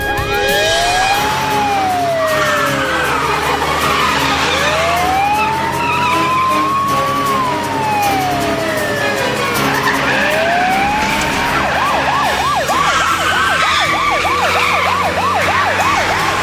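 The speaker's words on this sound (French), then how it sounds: "Envoie la sirène." A police car siren wailing up and down in long sweeps, then switching to a fast yelping pattern, loud and close amid engine roar and tire noise during a car chase.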